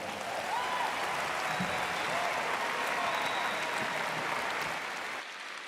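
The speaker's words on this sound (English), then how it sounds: "Encore une fois, nos applaudissements pour son Excellence, le vice-président du Kenya" A large audience at a youth summit opening ceremony in Kigali gives Kenya's vice-president dense, sustained applause, a loud continuous roar of clapping with faint whistles, which drops away abruptly near the end.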